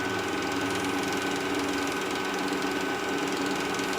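An acrylic pen blank spins on a lathe during wet sanding with fine 3200-grit paper, giving a steady, loud motor whir with a constant high hum and no breaks, nobody speaking.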